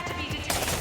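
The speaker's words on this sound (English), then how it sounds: "Guns." Short burst of rapid gunfire from a game trailer shown at Ubisoft's E3 2019 press conference, loud and close, rattling for under a second.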